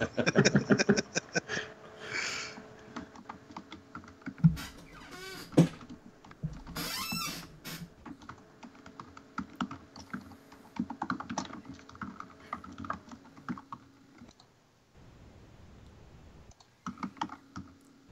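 Rapid, frantic typing on a computer keyboard, a dense run of close clicks and clatter with a few louder thumps, continuing with brief pauses through most of the stretch before trailing off.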